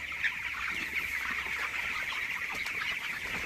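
Chickens around twenty days old cluck continuously while eating feed, jostling one another in a dense flock chorus, steady and moderately close with no talking.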